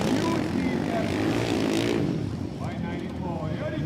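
Motorcycles race on a drying dirt track at a Royal Enfield Motoverse event, a continuous droning engine roar rising and falling at a distance beneath a commentator's voice.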